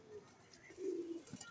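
Silver Hammer pigeons give a short, soft coo in the middle of a quiet, brief stretch. A few faint chirps and light background noise surround it.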